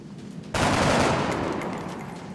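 Gunfire from the turn-based tactics game XCOM, a single loud burst of automatic-style shots that starts abruptly and then trails off into a reverberant decay.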